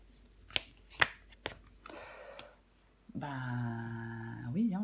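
Tarot cards slap and slide onto a table as new cards are laid over others in a spread, a few sharp soft taps and a brief shuffle, followed by a voice speaking.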